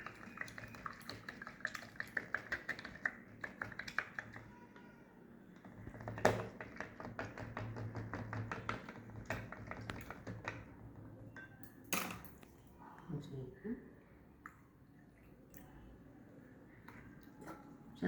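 A spoon stirs a chana sattu drink with lemon juice in a glass, light rapid clinks and taps in a steady run, then a few louder knocks and soft swishes near the end, no talking.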